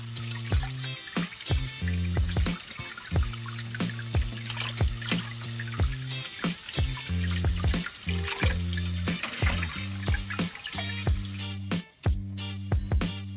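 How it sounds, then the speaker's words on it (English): Water runs steadily from a tap with soft handling noises as cooked beetroot is peeled under it, all under loud music with a steady beat. "Peel off the skin of cooked beetroot in a running water."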